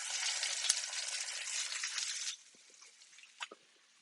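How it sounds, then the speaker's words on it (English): Steaks searing in a hot cast iron pan give a steady bright sizzle for about two seconds, then it drops to faint crackles and a couple of small pops. "Okay, so the steaks, let's sear them up."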